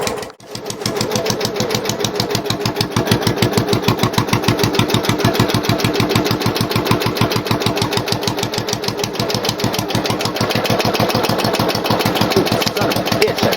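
Craftsman LT lawn tractor engine idling through a new custom-fabricated exhaust, a loud, close, steady low putter with rapid even pulses that starts just after a brief pause and runs on alone without talk.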